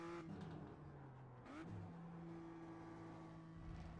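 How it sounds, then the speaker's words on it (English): A race car's engine revs steadily in a racing video game, its pitch dropping and climbing again around a gear shift partway through, a continuous mid-level drone heard alone. "Love the shifts on this car. It sounds so meaningful."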